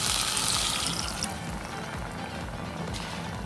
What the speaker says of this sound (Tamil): தண்ணி ஊற்றிடுங்க, மசாலா தண்ணியே ஊற்றிடலாம்